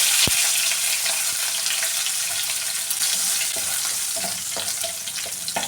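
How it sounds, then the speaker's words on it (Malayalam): Mustard seeds crackle and pop in hot coconut oil in a pan for a chickpea curry, with a steady loud sizzle and scattered sharp pops throughout, heard alone. "ഞാൻ എടുത്തിരിക്കുന്ന വെളിച്ചെണ്ണയാണ് കടുക് ഇട്ട് കൊടുക്കാം"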